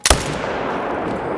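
A single sharp rifle shot rings out while hunting a fox in a hunting video game, then trails into a long, steady reverberant ambience.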